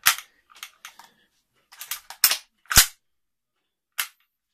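A WELL G74 CO2 gas-blowback airsoft replica of an AKS-74U fires several sharp, loud single shots at irregular intervals, each a crisp snapping crack with a quick mechanical clack, separated by quieter metallic clicks.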